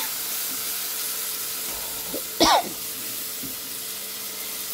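Bottle gourd pieces with garlic fry over a low flame in a pan, giving a soft, steady sizzle and hiss throughout, with one brief louder spatter midway.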